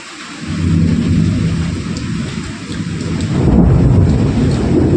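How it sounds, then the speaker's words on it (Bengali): Rain with thunder in Bangladesh, deep rolling rumbles over a steady wash of falling rain, loud and continuous, with no voices. "বৃষ্টি হচ্ছে বারবার, তো ওই ঘরে যাওয়া যাচ্ছে না"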